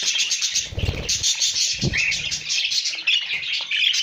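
A friendly pet bird gives bright, high calls and squawks, close by, over a constant high chatter of other birds, with a couple of low thumps.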